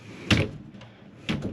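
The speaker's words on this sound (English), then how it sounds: "I'm going to close these doors" Two stateroom doors on a 1987 Jamestowner 14 x 53 aluminum-hull houseboat are pushed shut, giving two close, fairly soft thuds about a second apart with a faint rattle after the first.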